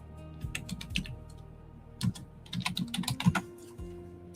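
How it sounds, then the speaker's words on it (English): Loud, rapid typing on a computer keyboard, with irregular bursts of sharp clicks that cluster and pause before picking up again, close and alone. "Yes, I'm typing loud."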